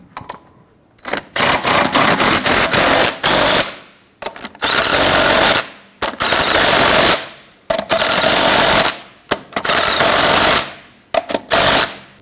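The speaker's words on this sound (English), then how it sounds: "Once we have all the lug nuts on, let's go ahead and snug them down." Lug nuts on a Jeep Grand Cherokee wheel are snugged down with a pneumatic impact wrench, giving loud, close, rattling bursts of hammering, each about a second long, separated by short pauses.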